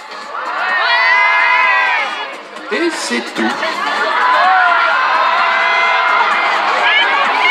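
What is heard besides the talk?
concert crowd cheering and shouting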